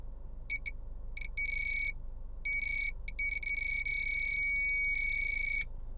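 A radar detector gives an electronic alert, sounding as repeated high-pitched beeps in short bursts that merge into a sustained tone, heard over the low hum of a car interior.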